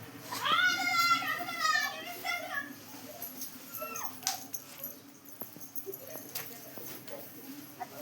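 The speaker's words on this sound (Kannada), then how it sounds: "ತುಂಬಾ ಜೋರಿರೋ ನಾಯಿ ಅಂದ್ರೆ ಇವನೇ." A fierce household dog lets out a run of rising, wavering whimpers and yips nearby, then quieter whines. People talk in the background.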